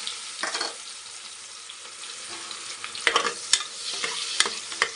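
Onions fry quietly in a pan for egg biryani, with a soft, steady sizzle. Scattered bursts of stirring and scraping rise above it, louder toward the end.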